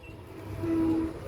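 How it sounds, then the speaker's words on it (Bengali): Train without an engine rolling into Mymensingh Junction: a faint, low rail rumble with a brief steady tonal whine in the middle, heard from a distance. "ইঞ্জিন ছাড়া ট্রেন চলে আসতেছে"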